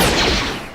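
A sci-fi blaster shot blended with the Jawa gun from Star Wars, used in a Knights of the Old Republic mod, a single loud burst that fades within a second.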